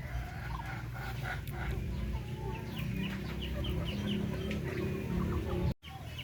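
Darag native chicken hens, red-faced and close to laying, cluck steadily and close by over a constant low farmyard hum.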